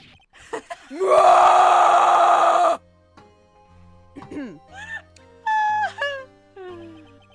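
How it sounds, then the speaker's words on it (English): A drawn-out scream from a Phoenix Wright Ace Attorney video game flashback rings out loudly for nearly two seconds, followed by quieter game sound effects, chimes and short rising tones. "It's that scream I heard in the elevator."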